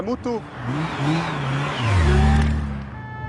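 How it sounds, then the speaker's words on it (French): A white Ducati Monster motorcycle speeds past at roughly 185–190 km/h, its engine note rising and swelling loud as it nears, a steady mid-pitched roar over road noise. "une Ducati Mostro blanche, une moto blanche, 185, 190 km/h"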